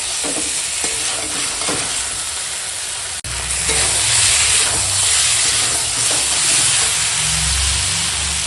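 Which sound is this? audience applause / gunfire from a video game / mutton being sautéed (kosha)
mutton being sautéed (kosha)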